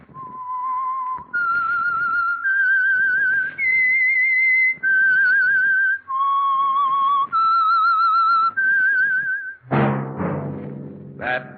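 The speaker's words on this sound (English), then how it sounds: "That whistle is your signal for the Signal Oil program, The Whistler." Whistled theme tune of the old-time radio mystery show The Whistler, sponsored by Signal Oil: a lone, clear melodic whistle in sustained phrases, loud and close, ending in a brief swell of orchestral music.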